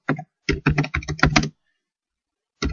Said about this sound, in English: you're basically typing the same sentence